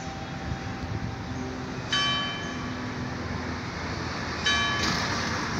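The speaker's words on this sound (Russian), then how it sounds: "Колокольный звон." Church bells ring along the Gzira waterfront in Malta, two bright bell strikes standing out at a distance over a steady wash of outdoor ambience and traffic-like rumble.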